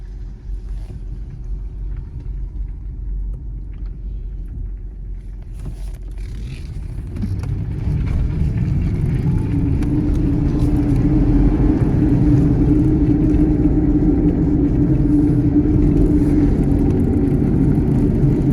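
A Dodge Magnum, freshly fitted with a new center bearing support, driving on a test run gives a low, steady engine and road rumble from inside the cabin that grows louder and fuller as it gets under way.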